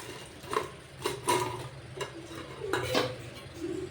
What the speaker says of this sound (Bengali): ডালের বড়াটাকে ঝোলের সাথে মিশিয়ে নিলাম